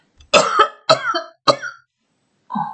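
A tired, hoarse woman coughs three times in quick, harsh bursts close to the microphone, followed by one more softer cough after a short pause.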